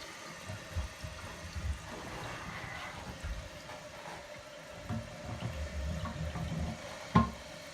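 A toilet tank refills after its flush valve was replaced, with steady close running and trickling water throughout and a brief sharp knock near the end.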